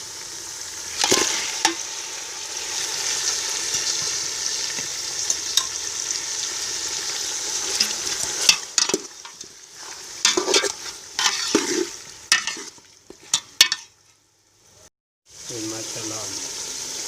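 Mutton sizzles and fries in masala in a pan with intermittent stirring and scraping clatter, a brief pause near the end before the sizzling resumes.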